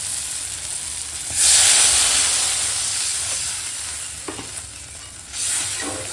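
Water poured into sizzling fried masala in a pan for a rohu fish-head curry with Malabar spinach, egg and potato sets off a loud, sudden hiss that eases into steady bubbling, then swells again near the end.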